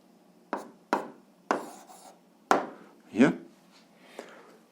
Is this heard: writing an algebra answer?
yes